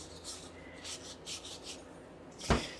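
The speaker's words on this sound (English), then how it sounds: "so gently scrub using a nylon pad, or rest will turn into orange-brown slurry" A nylon pad scrubs rust off a surface in a small kitchen renovation, producing faint, intermittent rubbing strokes, then one sharper scrape near the end.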